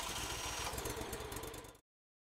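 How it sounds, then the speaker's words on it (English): A tow-behind blower's engine runs steadily after starting, a loud, continuous mid-pitched drone that cuts off abruptly partway through. "After the engine is started and running smoothly, deactivate the choke."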